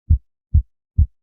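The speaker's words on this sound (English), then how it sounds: "We can feel and hear our heartbeat." A human heartbeat thumps three times in an even rhythm, each beat a soft, low, close thud separated by silence.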